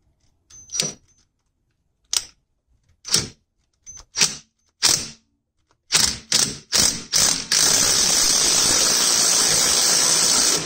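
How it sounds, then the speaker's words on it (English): A greased part being hammered into place during an LS engine swap on a Rocket Bunny GT86: sharp metallic blows, a few spaced strikes, then a quick run of hits, followed by a continuous loud hiss. "So, made a bit of grease. I just need to drive it in."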